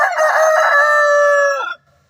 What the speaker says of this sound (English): This one, oh, beautiful rooster.